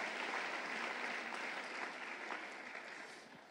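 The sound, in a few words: congregation applauding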